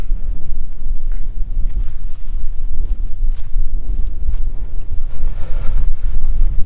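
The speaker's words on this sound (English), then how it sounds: "if it's not too wet, it's too windy" Strong, gusting wind buffets the microphone on a stormy, exposed moor at Lower White Tor, a continuous loud low rumble with surging gusts and no talk.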